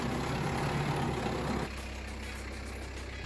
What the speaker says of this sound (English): got the tractor